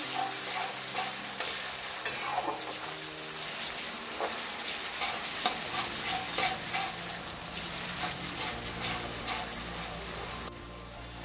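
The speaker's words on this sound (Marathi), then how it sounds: "आता याच्यामध्ये आपल्याला हा बारीक चिरून घेतलेला टोमॅटो घालायचा आहे। टोमॅटो सॉफ्ट होईपर्यंत आपल्याला हे परतवून घ्यायचं आहे।" Finely chopped tomato is sautéed in a pan for a mixed vegetable dish, giving a dense, even sizzle with frequent light stirring clicks throughout and no voices.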